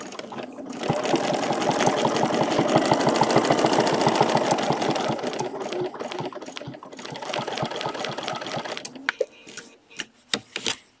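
A sewing machine stitches a quilted feather design in a fast, steady mechanical run of rapid needle strokes, close and loud, slowing near the end into a few separate stitches.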